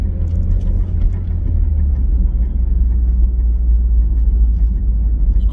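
An engine in a ZX car idles steadily at close range, nearly out of fuel after sitting four years in a garage, a continuous low rumble with no speech over it.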